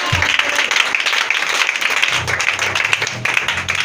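Congregation in a church service applauding and cheering together, a dense, sustained wash of clapping and voices with no clear pauses.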